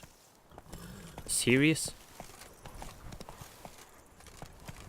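Roach the horse's hooves clip-clop steadily in Witcher 3: Blood and Wine, a regular close plodding beat, with a brief horse whinny early on and someone speaking a word over it.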